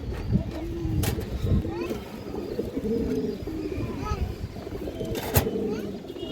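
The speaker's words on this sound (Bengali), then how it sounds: "3টাই মাদি কবুতর মাশাআল্লাহ।" Female pigeons for sale, among satin, baga and kaldam lines, coo in low repeated calls close by, mixed with someone talking over them and a few sharp clicks and thumps.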